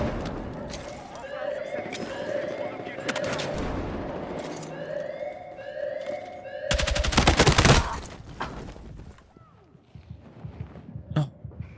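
Video game gunfire from a Mini Scout sniper rifle: scattered shots over a busy battle background with warbling alert tones, a loud dense burst around seven seconds, then sparse sharp reports toward the end.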